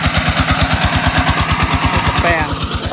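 A farmer's small single-cylinder water pump engine in Battambang, Cambodia, runs close by with a steady, rapid chugging pulse, loud and constant throughout, with a voice briefly heard over it.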